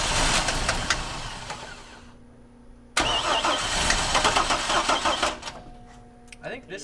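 A Chevrolet C10 pickup engine cranks and fires, goes briefly quiet, then starts again and runs loudly close by with uneven revs, under some nearby talk.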